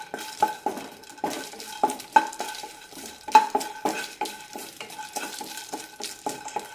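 A tablespoon of cardamom pods dry-roasts in a pan for homemade garam masala, with repeated dry scrapes, rattles and bright metallic clinks from stirring against the pan. The sounds come in uneven bursts over a quiet background.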